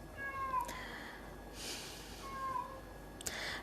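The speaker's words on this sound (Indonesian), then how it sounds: "Kalau kamu dengar suara kucing seperti biasa," A cat meows twice, quietly and a little distant, over faint background hum.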